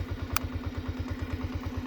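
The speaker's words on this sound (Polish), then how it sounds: "Silnik uruchomiony" Romet Pony moped engine idling close by, a steady low pulsing putter with a faint rhythmic rattle and a brief clack partway through.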